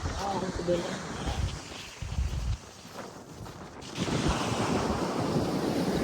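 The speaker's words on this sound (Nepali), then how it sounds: "बेलुका बेलुका हुनुलाई त्यो भएर नि छाल बढ्यो कि" Ocean surf rolls onto the sand at Normanville Jetty beach near Adelaide, with gusty wind buffeting the microphone and people talking over the steady wash of waves.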